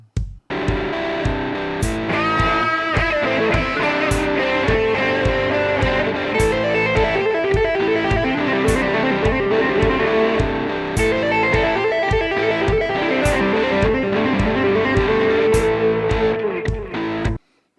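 A distorted electric guitar plays a busy, driving riff for the whole stretch, loud and steady with quick picked notes and brief accents.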